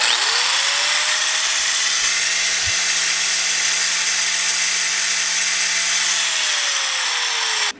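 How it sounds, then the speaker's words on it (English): Two angle grinders run on an overland solar power station: a high, steady whine spins up, holds evenly and winds down at the end, loud and close with no talk. "Let's see how it does with two grinders."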